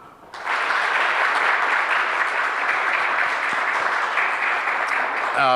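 A round of audience applause at a launch event, starting abruptly after a brief quiet moment and continuing as a dense, even wash of many hands clapping at steady loudness to the end.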